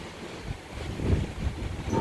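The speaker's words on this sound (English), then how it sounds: "Nice 20 to 30 mile an hour winds." Gusty 20 to 30 mph wind buffets the microphone over choppy harbor water lapping in the port at Skagway, Alaska, seen from an open cruise ship pool deck; a steady, rumbling wash with swelling gusts and no talk.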